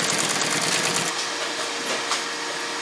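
Industrial sewing machine stitching a patient gown, a steady continuous mechanical whir running at close range throughout with a slight shift in pace partway through.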